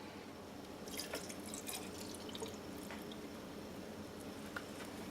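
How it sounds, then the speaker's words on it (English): Water from cans is poured into a pot of homemade spaghetti sauce, giving a faint, dripping, splashy liquid sound with soft squishy pours and no talk. "Next I'm going to add 3 cans of water."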